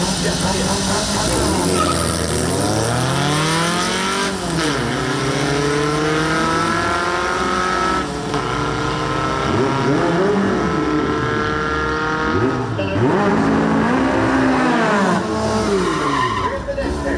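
VW Bug drag cars launch and accelerate down a drag strip, engines roaring loud with rising and falling revs, gear changes and squealing tyres, while an announcer's voice runs beneath the noise throughout.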